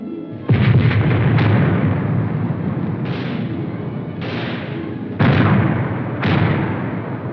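A 4.2-inch mortar platoon fires in a 1957 US Army battlefield demonstration: several heavy booming blasts land a second or two apart, each with a long rumbling decay, loud and with no voices.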